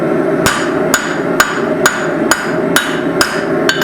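Steel being forged into an 8 oz hammer, struck by a hand hammer in eight sharp, evenly spaced ringing blows, loud and close, with no voices.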